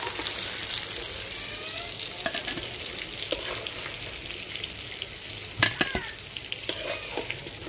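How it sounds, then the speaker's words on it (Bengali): Two pieces of katla fish fry in oil, making a constant close sizzle with crackles and sharp spatters now and then, and no talking. "মাছ আমি 2 পিস ভালোভাবে ভাজা নিচ্ছি"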